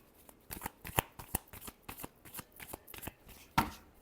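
Tarot cards are shuffled close up in a quick series of crisp riffling bursts and soft slaps, with a couple of sharper snaps standing out, all quiet and without talk.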